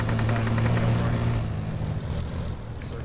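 A Harrier jet roars overhead in a military video game, a loud, rushing engine drone that peaks early and then recedes, with no voices over it.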